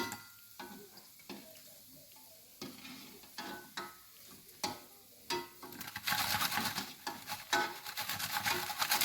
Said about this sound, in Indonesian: kalau goreng pempek adaan usahakan adonan pempeknya ini terendam dalam minyaknya